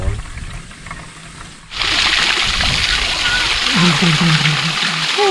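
Water flows in a shallow stream in the Sadun village area, a constant rushing wash that rises after a quieter opening; people talk in the foreground throughout.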